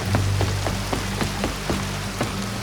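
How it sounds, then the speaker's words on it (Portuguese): Steady rain falls on a town in the video game Red Dead Redemption 2, a loud, dense hiss of drops on surfaces with regular soft thumps and a low hum beneath, continuous and with no voices. "começa a chover aqui na cidade novamente"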